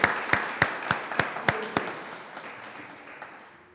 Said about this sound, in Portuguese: Salva de palmas a Jesus